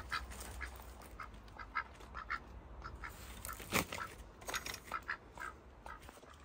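A farmyard duck quacks repeatedly at a moderate distance, with a string of short, fairly faint calls spread through an outdoor garden setting.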